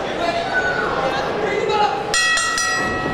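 A wrestling match bell at a Spring Breakout event rings in a quick burst of bright, sustained metallic tones, loud and close. It cuts through the busy crowd and arena noise that fills the first part.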